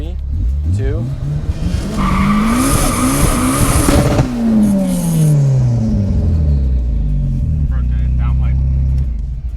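A 600 HP Nissan S15 with a VVL SR22 engine revs hard up the range and falls back, loud and close, with rising and falling engine tones and a fluttering turbo sound as it drops off, then settles into a rough idle.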